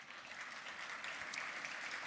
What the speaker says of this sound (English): again, these guys are clapping.